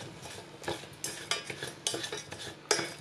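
Mango salad is tossed with utensils in a bowl, a close series of uneven scraping and clinking strokes with short pauses between them, no voices.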